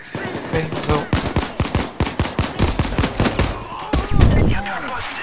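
Police assault gunfire during a Payday 2 heist crackles in rapid, dense volleys of many close shots, capped by a heavier blast near the end. A voice talks faintly underneath.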